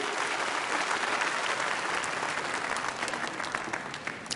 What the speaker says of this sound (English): give yourself a big round of applause and take your seat.